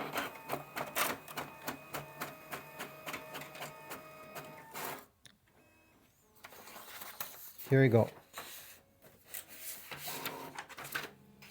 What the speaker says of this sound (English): It starts scanning and the result will come out here.